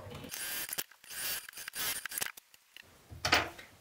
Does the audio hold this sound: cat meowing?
no